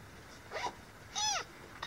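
A lost kitten in Bohol gives two short, faint meows, the second one higher and more drawn-out, with quiet background between them and no talking.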